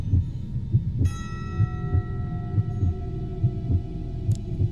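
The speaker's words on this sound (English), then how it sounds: "Just the heart beating and everything." A steady heartbeat thumps at an even rhythm throughout an animated horror story, low and muffled, with a faint sustained hum and a brief bell-like ring layered above it.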